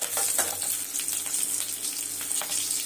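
Chana dal, urad dal, curry leaves and green chilli fry in hot oil for a tomato rice dish, giving a steady bright sizzle with small crackling pops, close and continuous with no talk.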